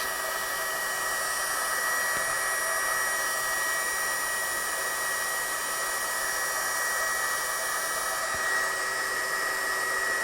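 A heat gun used for heat setting embossing powder runs continuously close by, a steady loud blowing whir with a faint high whine that holds evenly throughout, no voices.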